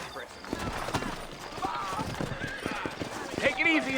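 Hooves clip-clop at an unhurried pace in the video game Red Dead Redemption while people talk over them, with a horse snorting briefly near the end.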